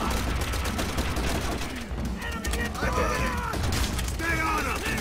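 Sustained covering gunfire from a Call of Duty: World at War single-player campaign battle, dense rapid bursts and explosions with game voices shouting over the constant barrage.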